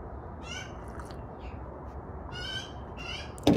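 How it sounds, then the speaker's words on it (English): Magpies call in a morning backyard, a few harsh chattering bursts at moderate distance over a steady low ambient rumble, with a short louder knock at the very end. "You can hear them magpies that go nuts in the morning."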